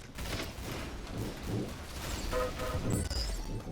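Rapid gunfire bursts from a Roblox shooting game, dense and crackling, with crash-like impacts layered through a busy, continuous mix.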